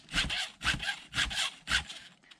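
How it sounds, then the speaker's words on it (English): A round file sharpening a chainsaw tooth: four evenly spaced rasping push strokes, close and crisp, each a short scrape followed by a brief pause, with no talking. "the round file is going to sharpen each tooth"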